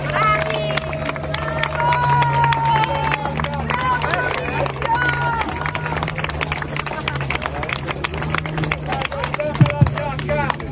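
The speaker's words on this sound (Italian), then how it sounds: "A round of applause there for the crew of Tommy One." Applause for the crew of the offshore powerboat Tommy One at a world record ceremony: a crowd claps steadily and fast throughout, with chatter, shouts and a public-address voice talking over the clapping.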